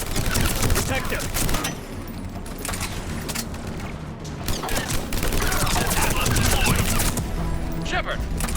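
Sustained gunfire rattles through a battle on Tuchanka in Mass Effect 3 Legendary Edition, loud and continuous bursts with voices speaking over the shooting.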